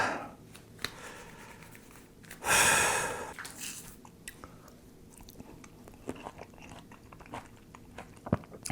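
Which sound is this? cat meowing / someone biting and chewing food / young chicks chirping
someone biting and chewing food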